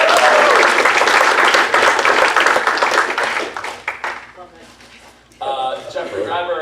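Conference audience applauding a speaker, dense sustained clapping filling the room, fading briefly before a second burst of clapping with cheers near the end.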